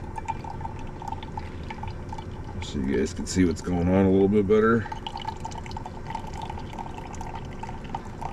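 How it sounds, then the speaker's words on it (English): Water poured into a giant coffee pot for pour-over coffee at a solo truck campsite, a short splashing stream lasting about two seconds under a voice, amid faint outdoor background noise. "just pour over coffee"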